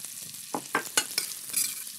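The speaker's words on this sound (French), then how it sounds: "Je mets à fondre la moitié de mon beurre. Je mets les échalotes." Butter, shallots, crushed garlic and thyme sizzle in a pan while the mussels are being prepared, with short bursts of frying hiss and stirring scrapes close by and no talking.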